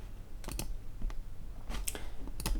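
Short bursts of computer keyboard typing, a few quick clusters of key clicks separated by pauses, close and fairly quiet.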